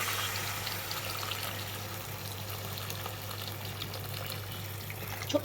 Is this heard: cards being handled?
no